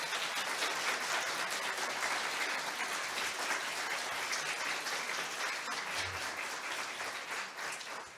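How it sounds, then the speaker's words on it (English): An audience at a library association keynote applauds with sustained, dense clapping that gradually thins and tapers off near the end. "So can we all just please give a round of applause for Kate?"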